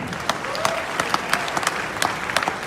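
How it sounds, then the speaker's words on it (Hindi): Audience applause in a large seminar hall, a steady dense wash of clapping that carries on throughout with scattered sharper claps standing out. "वाह, जोरदार ताली इन सबके लिए।"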